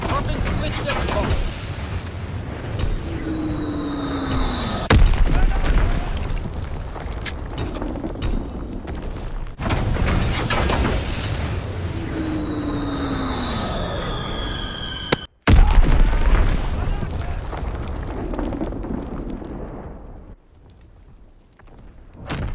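A bombing fleet air strike in Call of Duty WWII: a heavy, sustained roar of explosions with falling whistles sweeping down through it, repeated in two long waves. A sharp crack comes near the end before the noise thins out, and a voice can be heard faintly.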